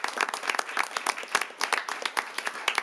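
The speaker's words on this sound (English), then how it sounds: "Let's give them all a big round of applause." Audience applause at a city council meeting, a steady burst of many hands clapping in a room, fairly close and continuous for the whole stretch with no voices over it.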